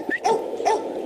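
A yard dog lets out a couple of short, loud barks close by, sharp and clipped in quick succession.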